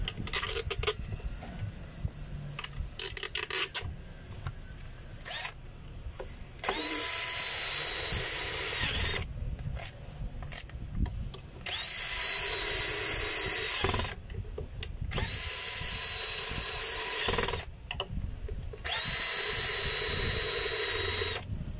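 A power driver runs screws into a Makita circular saw being reassembled after an armature, field coil and carbon brush replacement, giving several long whirring bursts with small metallic clicks between them.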